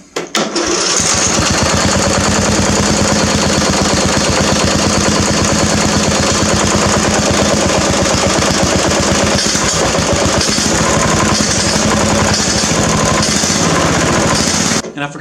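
A lawn mower engine, built for speed and unrun for a couple of weeks, fires on a cold start without choke and settles into a loud, steady, rapid chugging idle that runs nearly the whole time, close up and alone.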